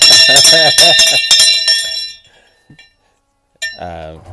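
A handbell rings in a radio talk-show studio, several bright metallic strikes with long ringing overtones, then a quiet gap before a voice starts talking.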